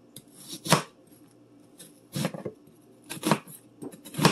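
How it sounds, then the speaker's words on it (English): Half an onion being minced with a knife on a cutting board: a few separate sharp chopping knocks spaced apart, close and fairly loud against a quiet kitchen, no talking. "I'm going to give it a quick mince."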